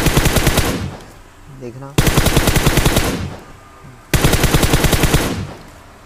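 Automatic gunfire from a scoped rifle in the mobile battle royale game PUBG Mobile, three loud close bursts of rapid shots, each trailing off. Someone speaks briefly between them.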